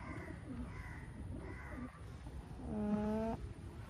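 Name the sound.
pigeon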